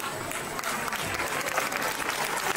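Audience applause at a state-level abacus and Vedic maths championship, a dense continuous roar of many clapping hands filling the whole stretch, loud and sustained.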